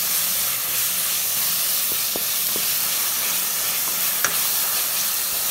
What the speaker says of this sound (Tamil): இப்போ நம்ம வந்து இஞ்சி பூண்டு விழுதியும் இப்போ போட்றலாம் இது லைட்டா கொஞ்சம் அப்படியே வதக்கிக்கலாம்